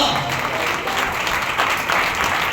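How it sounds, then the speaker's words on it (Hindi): A church congregation claps during a Sunday worship service, a steady dense wash of many hands filling the room, loud and continuous with no clear pauses. "ये तालियां ठीक नहीं"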